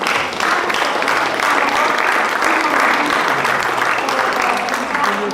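Sustained applause from a crowd, dense steady clapping that holds evenly throughout without pause.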